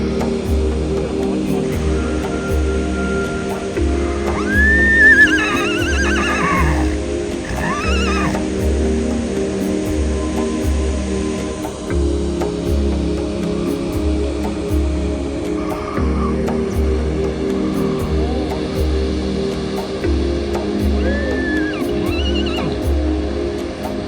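A mule neighs and whinnies repeatedly at a mountain trek base camp near a waterfall, several loud calls over a steady rush of flowing water and a low engine-like rumble.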